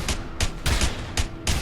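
Gunfire in the video game A Way Out comes as five evenly spaced sharp shots, each a loud bang with a short ringing tail, repeating about every third of a second.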